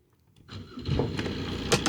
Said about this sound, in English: Right, start the engine.